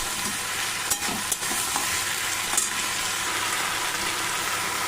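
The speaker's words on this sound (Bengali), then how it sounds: "বেগুনগুলো দেওয়ার পরে কিন্তু আবার আমাকে এগুলোকে খুব ভালো করে ভাজতে হবে" Eggplant pieces frying in a pan with spices and a little ginger and garlic paste, giving a steady close sizzle with a few brief stirring clicks and no voices.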